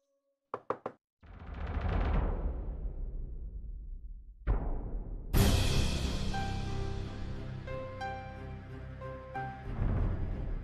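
Knocks on a door come as a few sharp, close raps at the start, followed by loud, dramatic swelling music with crashing hits that rings on to the end.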